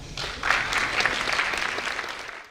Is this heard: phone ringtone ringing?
no